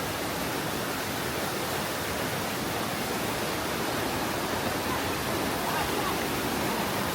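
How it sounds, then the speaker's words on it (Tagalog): Flowing water from a stream or waterfall in the Philippine countryside, a steady broadband rush that holds unchanged and fairly loud throughout, with no talk over it. "Yan yung tubig oh."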